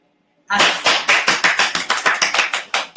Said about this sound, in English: We're clapping up because we agree